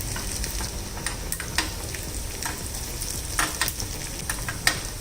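Cut green chili and cumin sizzle in hot oil over very low flame, making a soft steady crackle punctuated by sharp spoon taps and scrapes against the pan.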